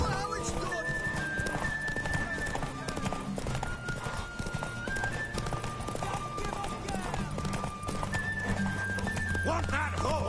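Galloping hoofbeats with a horse neighing in The Witcher 3, mixed with game music and battle sounds, while people speak over it.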